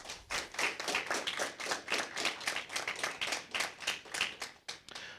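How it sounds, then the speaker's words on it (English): An audience at an inter-secondary school debate claps in steady, dense applause for both teams, even and sustained with no voices over it. "I think both teams deserve a round of applause."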